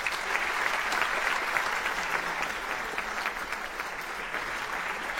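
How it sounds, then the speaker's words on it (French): Sustained, even applause from an audience at a business presentation in Belgium fills the room, steady and full, easing slightly toward the end with no voices over it. "Je vous demande vraiment de remercier et d'applaudir Monsieur Benjamin Nizet."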